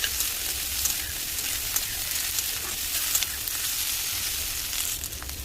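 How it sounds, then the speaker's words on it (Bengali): Boiled potatoes and fried onions sizzle loudly and steadily in a hot pan while being stirred, with a continuous crackle close up. "এবার এর মধ্যে সেদ্ধ করে কেটে রাখা আলুগুলো দিয়ে দেবো, দিয়ে আবার একটু ভালো করে নাড়াচাড়া করে নেবো"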